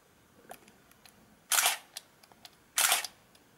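Minolta Dynax 7 SLR camera mirror flipping, two sharp mechanical shutter-and-mirror clacks a second apart amid small handling clicks, close and quiet with no talk.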